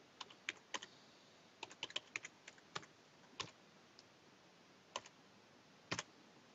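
Typing on a computer keyboard, quiet irregular key clicks in small clusters with pauses between them, close but soft over a faint steady background hiss, with nobody speaking.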